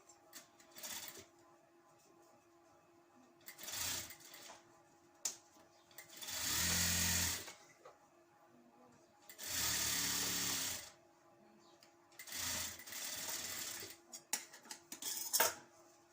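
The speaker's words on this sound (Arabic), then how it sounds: "وهنبدأ نخيط" Sewing machine stitching elastic into a sleeve, several short bursts of rapid whirring stitches separated by quiet pauses, close and fairly soft, with brief handling noises between runs.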